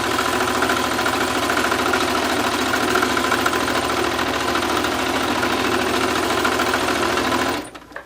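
Sewing machine running a line of stitches through quilt fabric, a loud, steady, rapid mechanical whirring chatter lasting about seven seconds before abruptly stopping.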